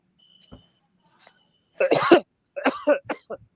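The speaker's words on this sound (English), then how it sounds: "That's what we call a wet cough and a dry cough." A few coughs in sequence, wet and dry: faint short ones at first, then a louder harsh cough burst and a second rougher pair, close by with no speech.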